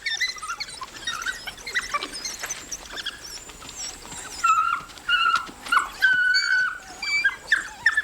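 A dog pup gives repeated high whimpers and squeaks while being carried toward another burrow in the Okavango wild, loud and close in rising and falling bursts with soft pattering movement between.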